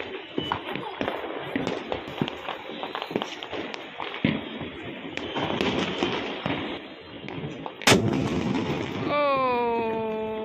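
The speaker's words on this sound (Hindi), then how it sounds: "भैया ये तो बहुत बेहतरीन बम है" Large aloo bomb firecrackers burst during Diwali, with a string of sharp, irregular bangs and crackles at varying distances, one loud blast near the end followed by a rising tonal whine, and voices in the background.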